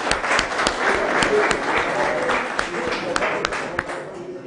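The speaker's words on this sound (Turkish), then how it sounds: "Alkışlayalım arkadaşımızı." An audience applauds a speaker at a people's assembly meeting in Aslanköy, a steady round of clapping from a modest crowd, fairly close, with scattered sharper claps and a faint voice underneath.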